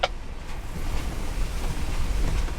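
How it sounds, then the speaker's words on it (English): Wind blowing steadily outdoors near a swampy tree line, a continuous broad rushing roar with low buffeting gusts against the microphone, loud and close, with no voices. "Oh, I know, it's windy out."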